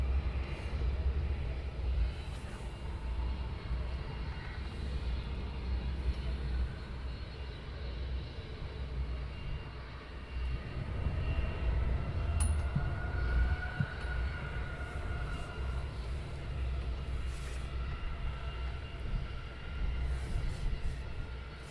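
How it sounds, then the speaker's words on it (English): An airliner taking off on a straight-out departure from Luton Airport, a steady deep engine roar heard from a distance that swells a little midway and holds, with no voices. "He's going for a straight out departure."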